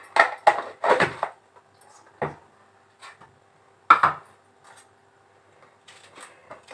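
A knife chops cucumber on a board in a home kitchen, a few quick clusters of crisp cuts followed by sparse single taps, close and fairly quiet against near silence.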